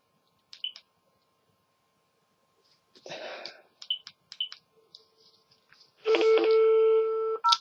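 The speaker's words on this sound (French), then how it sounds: "je vais arrêter pour répondre au téléphone" A telephone is being dialed and rung: scattered short keypad-like beeps, then a loud, steady electronic ringing tone with a few pulses, close and clear with no talk over it.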